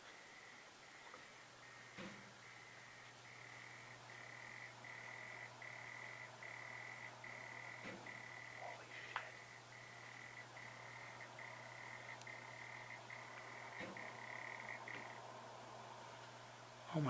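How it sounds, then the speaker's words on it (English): A frog croaks repeatedly near a notebook computer setup indoors, a steady run of calls over a constant background hum with a sustained tone, no talking. "just croaking, as frogs do"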